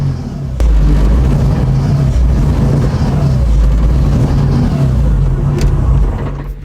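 A BMW E46 engine held back by a faulty pedal position sensor, droning steadily at a constrained rev rather than climbing, loud and close, with no talk over it.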